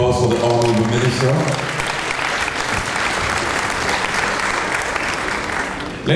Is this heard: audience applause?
yes